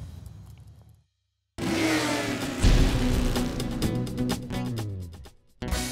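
A Harley-Davidson Milwaukee-Eight motorcycle ridden along US 12 between Idaho and Montana rumbles loudly after a brief silence, its engine note rising as it pulls away, steady and close.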